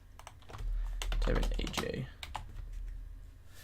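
Quick clicking keystrokes on a computer keyboard, a short burst of typing heard close up while a voice talks over part of it.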